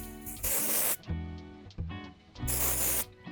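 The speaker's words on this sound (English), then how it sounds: "I would go for this dry texture spray." A dry texture hair spray is sprayed at the roots in two loud, close hissing bursts of about half a second each, separated by a short quieter stretch.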